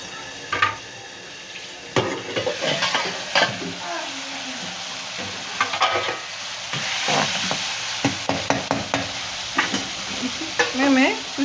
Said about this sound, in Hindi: अब इसी को मैं टमाटर को इसमें तेल में फ्राई करके पेस्ट बना लूँगी।